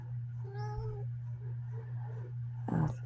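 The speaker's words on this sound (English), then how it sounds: "The cats are starting to wake up and they want to go outside." Cats meowing as they wake up and want to go outside, a few drawn-out mewing calls close by over a steady low hum, followed by a brief louder rustle.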